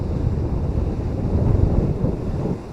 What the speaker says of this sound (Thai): แต่ว่าวันนี้รู้สึก คลื่นแรงเหลือเกิน ไม่น่าจะลงเล่นน้ำได้